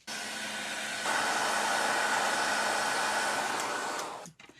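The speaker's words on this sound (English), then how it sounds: "And then I'm going to hit it with the hairdryer." Hair dryer blowing steadily on wet watercolor paint of a four-leaf clover, a loud continuous whoosh that steps up in strength after a second and cuts off near the end.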